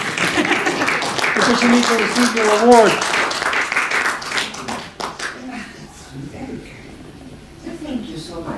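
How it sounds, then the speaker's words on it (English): An audience claps for an honorary award recipient at an Anglo-Bolivian Society anniversary event, a steady moderate patter that thins out over several seconds while a speaker talks over it. "Applause for her, please."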